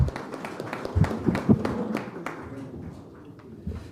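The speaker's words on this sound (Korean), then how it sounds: "큰 박수로 환영해 주시기 바랍니다" Scattered applause from the audience at a Korean political party forum welcoming a university professor to the podium. Brief, uneven claps come close and fairly loud, then taper off after about two seconds.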